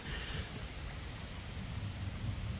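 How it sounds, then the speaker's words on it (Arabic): Heavy rain pours onto a pond outdoors, a steady dense hiss and patter with no break, fairly faint and with no voices. "شوفوا قوة المطر"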